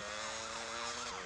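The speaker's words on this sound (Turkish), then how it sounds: "Ambulans gidiyor." Ambulance siren in the video game GTA Liberty City Stories, a wailing tone sweeping up and down repeatedly, fairly faint and steady, with no talk over it.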